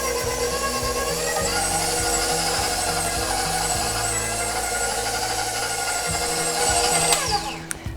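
An electric mixer creams butter and sugar for sugar cookies, a steady, close motor whine with a rhythmic pulsing low hum that holds for several seconds, with a few scraping clicks near the end.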